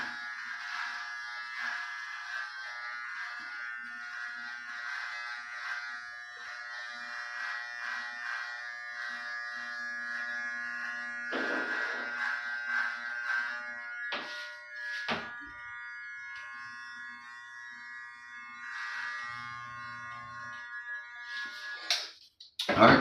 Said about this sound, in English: Do it yourself, bald head haircut using the Andis T outliners